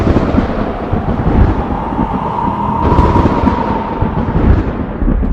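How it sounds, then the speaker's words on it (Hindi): Loud rolling thunder and roaring storm wind as a sound effect, a dense continuous rumble with a whooshing gust that swells midway and carries on steadily to the end. "कुछ ही देर में तेज हवाएं और बिजली कड़कने लगी।"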